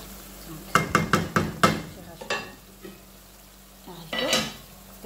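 Beans tipped into a cooking pot for a French-style bean stew with pig's feet and sausages, a quick run of five or six sharp clattering knocks and scrapes, then softer stirring and a brief louder clatter, no talking.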